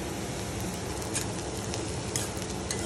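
Cauliflower florets deep-frying in oil until crisp, a steady dense sizzle and crackle throughout with occasional louder spits and faint stirring, close and continuous with no voices.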